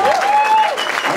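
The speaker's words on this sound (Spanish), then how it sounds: "oye, un aplauso para Marquinho" Applause from an audience at a conversation event about cumbia in Bogotá, music and dance, greeting Marquinho; dense, steady clapping fills the short clip, with a tonal whistle-like sound gliding across it.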